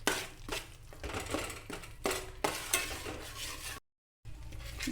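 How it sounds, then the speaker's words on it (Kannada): Masala for a village-style fish curry fries in a pan, a steady sizzle broken by repeated stirring scrapes, close and fairly loud, with a brief gap of silence near the end. "ಅದನ್ನು ಇದಕ್ಕೇ ಸೇರಿಸಿ ನೀಟಾಗಿ ಮಿಕ್ಸ್ ಮಾಡಿ ಇದನ್ನು ಚೆನ್ನಾಗಿ ಡ್ರೈ ಆಗೋವರೆಗೂ ಫ್ರೈ ಮಾಡಬೇಕು"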